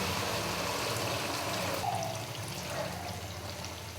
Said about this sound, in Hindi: तो अभी हम इसके अंदर पानी डाल देंगे।